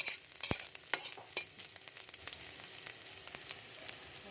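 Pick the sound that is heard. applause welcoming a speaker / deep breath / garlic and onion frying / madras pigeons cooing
garlic and onion frying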